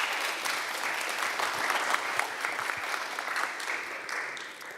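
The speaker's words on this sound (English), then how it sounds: "a big applause for the panel" Sustained audience applause closing a roundtable panel discussion on European cities, a steady dense clapping wash from a large room lasting throughout without talk.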